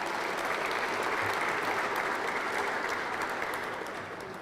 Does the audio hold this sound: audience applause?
yes